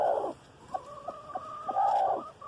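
A hen clucks close by, surrounded by her newly hatched chicks, which give several short high peeps at a steady pace between bursts of her clucking.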